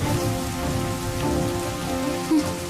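Steady rain falls across the whole stretch in a dense, even hiss, with a low rumble underneath and a brief louder burst near the end; no one speaks.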